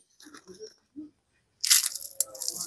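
After a few soft murmurs of speech, a crispy fried snack of raw potato and wheat flour is snapped apart with a loud, close crunch followed by crackling crumbles.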